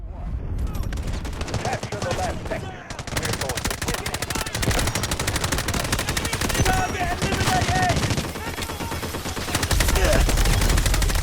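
Continuous heavy automatic gunfire in the Delta Force Mobile shooter game, loud overlapping bursts with barely a pause throughout, a deep low rumble swelling near the end.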